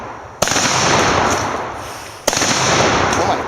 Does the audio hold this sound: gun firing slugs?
yes